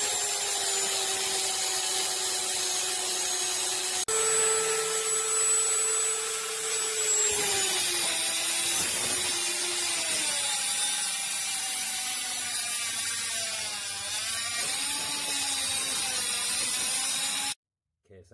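A ratchet works loose a nut on a Mazda MX5 front suspension arm, a continuous close mechanical whirring and clicking that shifts pitch as it turns, running steadily before cutting off abruptly.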